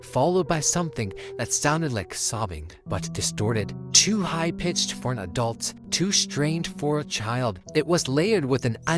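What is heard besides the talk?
No distinct noise like a dog, phone or traffic.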